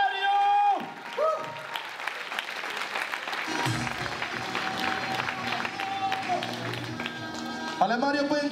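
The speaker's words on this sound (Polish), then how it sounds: "Wielkie brawa." Audience applause and crowd noise for a breakdancer at a Polish breaking event, a steady wash of clapping lasting throughout, with an MC's voice and music tones layered over it.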